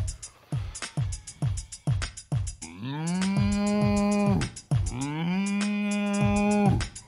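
At a live stage show in Durbuy, over a bouncy rhythmic backing in a French song, a voice imitates a cow with two long, drawn-out moos, loud and sustained.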